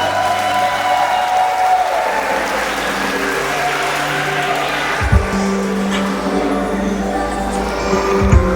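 Guests at a Nashville wedding reception applaud together in a dense, sustained wash of clapping. A low hum runs underneath, and a few louder bursts come near the end.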